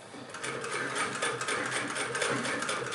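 A 1926 Singer 99 hand-crank sewing machine runs steadily throughout, a continuous close mechanical whir with rapid rhythmic needle clatter and no talking.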